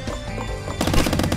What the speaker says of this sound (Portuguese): com a submetralhadora é diferente, mano. Você tem que ficar atirando loucamente